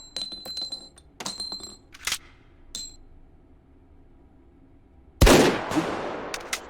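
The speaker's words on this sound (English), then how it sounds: "It's an exploding incendiary round, which sounds delightfully terrifying." Exploding incendiary rounds fired in the VR video game Hot Dogs Horseshoes & Hand Grenades: several sharp shots with ringing metallic clinks, a quiet pause, then one loud, sudden, heavy burst that decays slowly.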